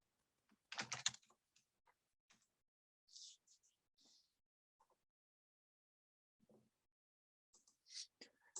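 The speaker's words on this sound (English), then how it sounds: "And at this point, I can start typing text." Quiet keystrokes on a computer keyboard come in short irregular bursts with pauses between, close and faint, with no one speaking.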